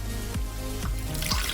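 Cooking water left over from chicken and tomatoes is poured into a blender to rinse it, a close, continuous splashing and trickling with a few gurgling plops.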